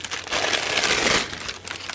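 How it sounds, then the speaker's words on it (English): Gift packaging crinkles and crackles close by in a short burst of handling, loudest in the middle and then tapering into lighter rustles. "sorry for the crinkling."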